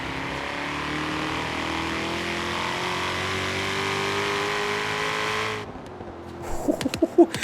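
A Shelby GT350R roars in Forza Horizon 3, its engine pulling hard through second gear with a steady climbing rev for several seconds before cutting off, followed by a few brief knocks and clicks.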